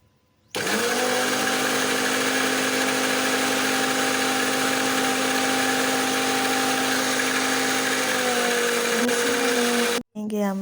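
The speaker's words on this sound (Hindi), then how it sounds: "चीज़ों को ग्राइंड कर लेंगे" An electric grinder whirs steadily as it grinds pakora ingredients, a loud, continuous motor drone that starts abruptly, runs for about ten seconds and cuts off with a brief final burst.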